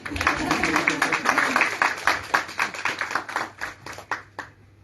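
An audience at a university literary talk in Talca, Chile, claps in a dense burst of applause that thins to scattered individual claps and then fades out.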